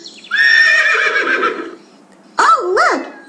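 A horse neighs loudly and close on a farm, one long whinny followed after a short pause by a second, shorter call, with no other sounds.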